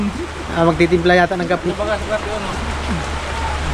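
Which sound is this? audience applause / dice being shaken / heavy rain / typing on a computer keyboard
heavy rain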